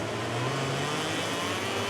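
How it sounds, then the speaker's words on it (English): KTM MotoGP racing motorcycle engine in the MotoGP 18 video game, a steady high whiny drone held at constant revs, loud and continuous with no speech. "Definitely a whiny engine though, that KTM."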